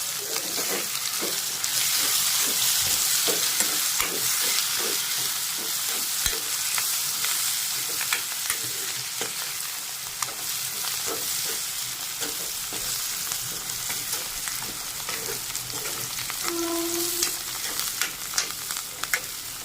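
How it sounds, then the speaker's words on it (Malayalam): Chopped onions and curry leaves fry in a pan for chicken curry, a steady sizzle broken by repeated scraping and stirring strokes that continue throughout with no talking. "അതുപോലെ തന്നെ കരിയാപ്പിലയും അതിന് ചേർന്നിടുക. എന്നിട്ടത് നല്ലപോലെ ഇളക്കണം."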